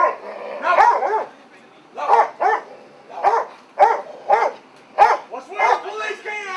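A police canine barks repeatedly in sharp, close bursts amid storm devastation, loud and rhythmic, with someone shouting commands over it.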